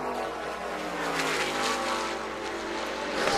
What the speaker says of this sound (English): You hear right now with Alex with 20 laps to go, and he's already sideways on the banking